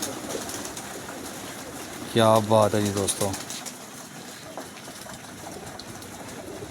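A pigeon coos in a short run of deep throaty notes from about two to three and a half seconds, fairly close, against faint outdoor hiss, with someone talking briefly.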